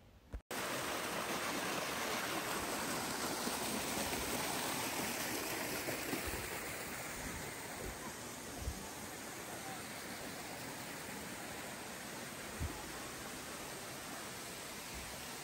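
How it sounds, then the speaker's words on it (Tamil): Mohini waterfall in Sri Lanka's hill country pours in a steady, broad roar of falling water, continuous and fairly loud throughout with no voices over it. "இந்த நீர்வீழ்ச்சி மிக அழகானது"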